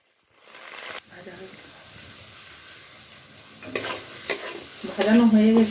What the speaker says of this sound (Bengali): কড়াইয়ে তেল দিয়ে দিব, তারপরে কড়াইশুঁটিগুলো ভেজে নেব।